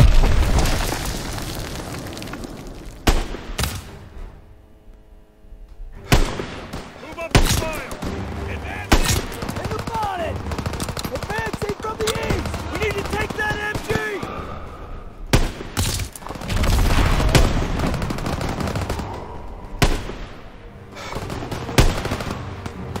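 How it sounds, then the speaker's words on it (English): Gunfire in the WWII shooter game Call of Duty WWII, loud rifle and machine-gun bursts with booming explosions in irregular clusters, separated by short lulls and mixed with game dialogue. "Gunfire! You must be near our guys."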